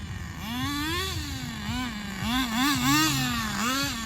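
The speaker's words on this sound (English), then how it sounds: "I'm not going to be driving this really for performance as much as to just make sure the engine runs" Nitro RC car engine, a Thunder Tiger TS-4n with a 4Tec Pro .15 motor, running nearby with a buzzing whine that rises and falls in quick throttle blips, no talking.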